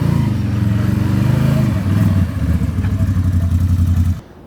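A dirt bike engine chugs loudly and close in a steady rhythmic idle that dips in pitch partway through, then cuts off abruptly near the end, with no talking.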